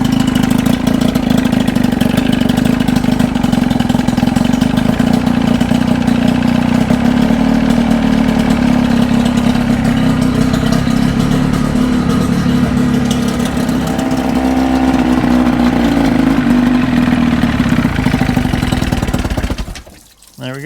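A 1979 Evinrude outboard motor runs on after its fuel line is pulled, a loud, steady close-up idle with a constant low hum that holds for about twenty seconds before the engine cuts out.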